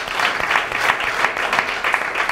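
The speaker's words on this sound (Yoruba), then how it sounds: "ẹ jọ̀ọ́ ẹ bá mi pàtẹ́wọ́ fún wọn" An audience at a Yoruba-language school debate competition claps steadily in a dense, continuous round of applause from many hands, close and fairly loud.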